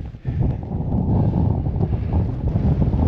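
Strong blizzard wind batters a wild camp in the Lake District in winter, a loud, close, roaring buffet that hits the microphone and holds steady after a brief dip at the start, with no voices.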